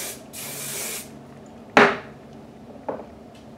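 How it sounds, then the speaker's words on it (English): Two hissing bursts of hairspray sprayed onto short hair, followed by a couple of soft knocks and a brief rustle, close by with no talking. "I'm gonna go ahead and spray it"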